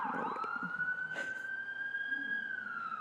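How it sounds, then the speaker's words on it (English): A wailing emergency siren holds a steady high tone, loud and close, with harmonics above it and a brief burst of traffic noise partway through. "it's never worth trying to talk over the sirens."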